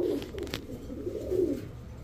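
Pigeons of fancy breeds, kept in a loft for sale, coo in low, soft, rolling calls, close and continuous, with faint background noise.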